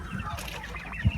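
Chickens in a muddy flock pen give short, low clucks in a brief burst, close by, with one louder cluck near the end.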